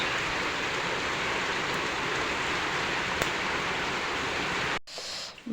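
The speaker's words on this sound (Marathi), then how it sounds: "बाहेर खूप पाऊस आहे." Heavy monsoon rain falls outside in a village, a dense, steady hiss of downpour on surfaces that fills the whole stretch before briefly cutting away near the end.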